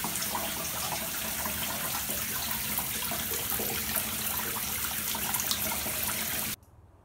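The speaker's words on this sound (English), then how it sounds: "now that my tub is filled up" Bathtub filling with water from the tap, a steady dense rushing pour that runs unbroken for several seconds and then stops abruptly, leaving near silence.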